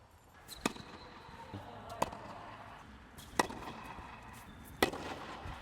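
Four crisp ball strikes off a Wilson racket during net volleys on a tennis court, evenly spaced about a second and a half apart, sharp and fairly close over faint background noise.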